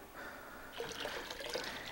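Liquid hydroponic nutrient being poured into a 5-gallon bucket of water, a soft close trickle that swells into a fuller splashing pour partway through, with no talk.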